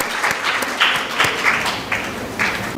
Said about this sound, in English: Can we have a round of applause again?